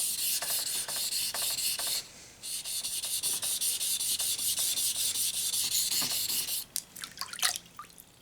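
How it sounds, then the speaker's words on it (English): A knife blade is thinned on a 1000 grit sharpening stone, with steady wet rhythmic grinding strokes, a brief pause, then a few lighter scraping passes at the end, close and alone. "I am thinning that secondary edge, or basically the grind, if you will, on my 1000 grit."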